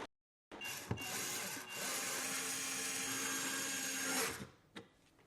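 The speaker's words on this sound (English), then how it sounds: "Now we're going to attach 4 screws, 2 here and 2 on the outside." A power driver drives screws into a 3D-printed ABS filter housing, a steady whirring drone of a few seconds with short bursts at start and end, close and fairly quiet with no talk.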